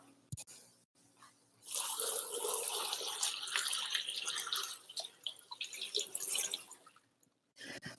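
Celery washed under a running tap, a steady splashing rush of water that starts after a few brief clicks, runs for several seconds with fluctuating spatter, then cuts off, close and fairly quiet.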